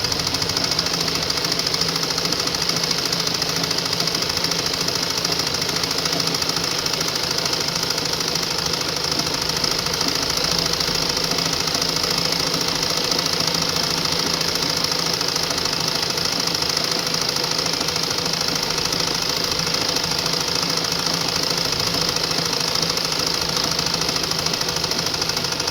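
Sewing machine running steadily for about 25 seconds, stitching a single line along a half-inch petticoat waistband, with a continuous mechanical whir and knock and no talking.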